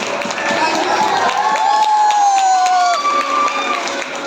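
Crowd at a school Christmas gathering applauding and cheering, continuous clapping with high whoops and shouts rising over it, fairly loud and close, voices mixed in.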